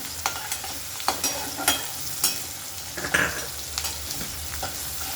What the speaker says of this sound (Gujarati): હવે આપણે પહેલાં જે ઓનિયન ચોપ કરી છે એને સાતળી લેવાની છે.